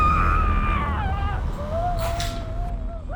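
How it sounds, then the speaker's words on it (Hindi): A woman screams in a Hindi crime drama scene set in a home, with loud, drawn-out, wavering cries that rise and fall in pitch, carried over a steady low background rumble. "ये भी ना बहुत चिल्लाने लगी है"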